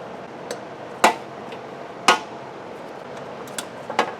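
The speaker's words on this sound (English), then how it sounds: "So I'm going to break the torque on all of these bolts." Wrench breaking loose the head bolts on a push mower engine with a suspected bad head gasket, several sharp metallic cracks about a second apart, close and fairly loud over a steady background hum, with no talk.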